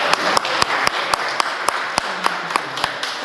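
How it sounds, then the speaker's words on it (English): Applause at a virtual cafe art club gallery event: a light, scattered clapping texture with sharp individual claps ringing out at a fairly regular pace, moderately close. "let's give them a round of applause"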